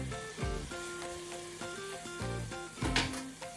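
Buffalo mince sizzling and frying in a pan while it is stirred, a steady close hiss with scraping stir sounds, over soft background music.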